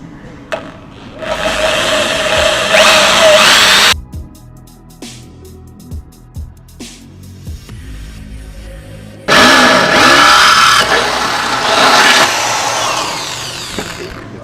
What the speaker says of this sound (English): Then we can drill a hole up the top